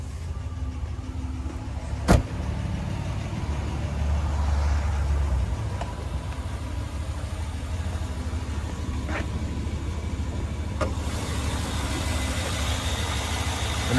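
A 5.7-liter V8 engine with eTorque mild-hybrid assist in a 2022 Jeep Wagoneer Series II idles steadily with a low, even rumble, punctuated by a sharp click near the start and a couple of faint ticks.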